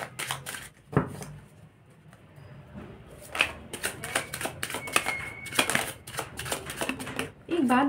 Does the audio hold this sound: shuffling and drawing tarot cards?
yes